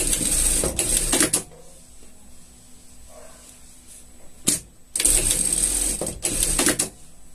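Sewing machine stitching a safety stitch while making a pet poncho, running in loud mechanical bursts of about a second or more, broken by quieter gaps, with no talking.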